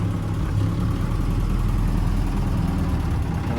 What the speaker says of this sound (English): Gonna see if it'll idle.